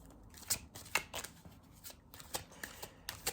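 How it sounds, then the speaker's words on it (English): Tarot cards being shuffled for a reading, a close, quiet run of crisp flicking riffles and soft slaps coming in quick irregular bursts. "I will pull a card for you"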